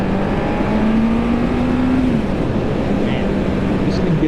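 A 2011 Honda CB1000R motorcycle accelerates hard, its engine tone climbing steadily then easing off, loud and close under heavy wind roar throughout.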